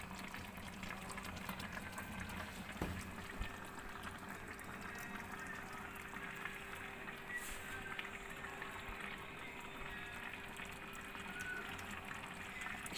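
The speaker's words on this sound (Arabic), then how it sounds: "شايفين المحشي اهو بيغلي اهو" A pot of stuffed vegetables (mahshi) boils on a stove with a faint, steady bubbling hiss and a constant low hum running underneath.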